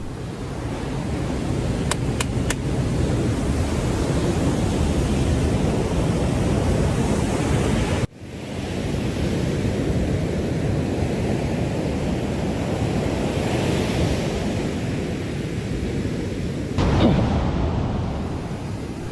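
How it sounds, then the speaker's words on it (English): Big ocean waves break on a beach after sunset, a loud, continuous roar of surf mixed with heavy wind buffeting the microphone, with a sharp cut partway through and a brief surge near the end. "The sun has already set, but the waves are still big."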